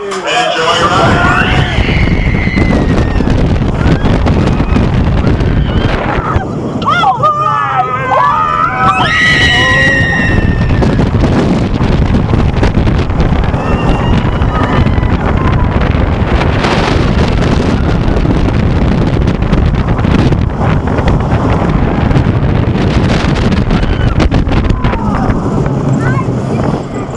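Riding Xcelerator, a launched roller coaster at Knott's Berry Farm: constant loud wind buffeting and rushing track roar over nearly half a minute, with brief riders' screams early on and muffled voices at times.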